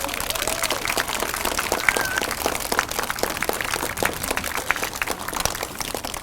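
A crowd at a community event in Quincy claps steadily, a dense patter of many hands at moderate volume that keeps going evenly throughout.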